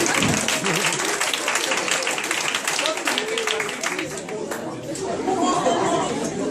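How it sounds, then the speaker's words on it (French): Dance class members clap together during a partner dance lesson, a dense patter of hands mixed with lively chatter and talking throughout, the clapping easing slightly near the end. "Les mecs, normalement, vous êtes censés applaudir en fait là dans ce moment-là."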